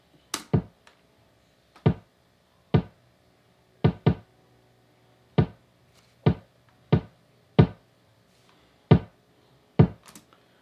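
Punchy, isolated raw kick drum hits sound at an uneven pace, about a dozen sharp thumps with brief tails and silence between them.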